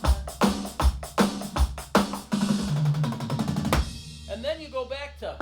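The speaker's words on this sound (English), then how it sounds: "You're putting a 16th note feel into a triplet pulse." A drum fill of 16th notes played over a triplet-feel song, with punchy kick and snare hits and a fast roll, then a person talking briefly at the end.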